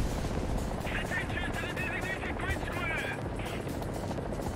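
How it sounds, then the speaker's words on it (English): Helicopter in the War Thunder video game, a continuous rotor drone with a steady chopping beat throughout, mixed under game noise and a voice talking over it. "Is that allied chopper?"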